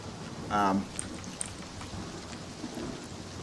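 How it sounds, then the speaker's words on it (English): Rain effects in the Oblivion video game: a faint, steady hiss of falling rain with a few soft drip ticks, and a brief voice near the start. "Rain effects."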